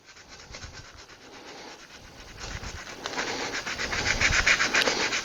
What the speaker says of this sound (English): I'll do some hand sanding.